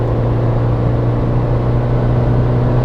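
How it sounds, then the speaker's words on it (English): Steady engine drone and road noise from a 2019 Suzuki Jimny 1.5 in fifth gear at about 4000 RPM on the motorway, near 110 km/h, a constant loud hum inside the cabin without talk. "would you like to hear how this car sounds on the freeway or on the motorway?"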